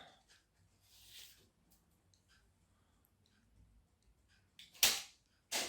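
A rubber band launcher flings a paper plane: after a long quiet stretch with faint rustles, a sharp, loud snap bursts out, followed by another brief rushing hit near the end.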